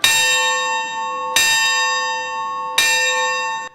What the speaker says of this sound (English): Bells rang out to honor the